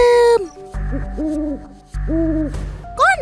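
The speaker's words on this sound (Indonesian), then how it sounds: "mendengar suara si burung hantu" Two drawn-out owl hoots, each a low wavering note with a clear rise and fall, separated by a brief pause; close and loud, with no talking.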